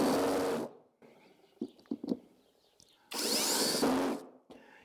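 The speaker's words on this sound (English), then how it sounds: "Let's try and screw some screws into this wooden block." A cordless screwdriver drives screws into a wooden block in two loud whirring bursts, separated by a quieter stretch of brief clicks and knocks from handling the screw and tool.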